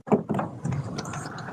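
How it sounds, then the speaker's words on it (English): A large vehicle rumbles past with a low, noisy roar and some clattering bursts, fairly close and lasting about a second and a half. "It was the sound of a bus."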